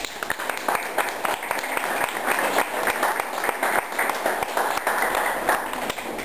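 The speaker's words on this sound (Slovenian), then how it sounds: "Jaz želim, da se jim z aplavzom zahvalimo za tole njihovo delo." A school audience claps in sustained, dense applause to thank students for their work, steady and loud throughout with no break.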